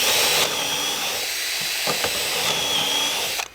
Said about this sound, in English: I am drilling the pinholes for the shelving